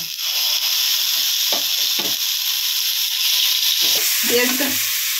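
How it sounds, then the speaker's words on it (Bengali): Steady sizzling of onion paste frying in hot oil in a pan, continuous and close, with a few soft stirring knocks and scrapes. "পেঁয়াজটা হালকা ফ্রাই করে নিয়েছি"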